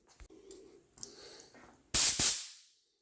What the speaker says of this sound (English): I'm going to blow air a little bit through that little black hole while holding this button open